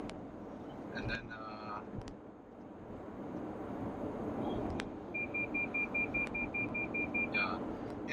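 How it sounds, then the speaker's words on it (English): A 2018 Toyota Harrier picks up speed by itself on cruise control, heard from inside as a steady cabin drone of road and engine noise that builds slightly. Short electronic beeps chime partway through, and a voice briefly speaks. "Yep, it's accelerating now all by itself"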